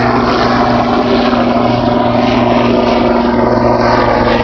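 Steady, loud rotor and engine drone with a strong low hum, continuous throughout as a helicopter passes close overhead.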